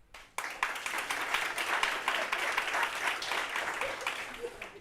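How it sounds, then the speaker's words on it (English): An audience at a health and climate debate event bursts into sustained applause, dense rapid clapping mixed with cheers that starts abruptly after a brief quiet moment and continues steadily. "please clap and cheer now."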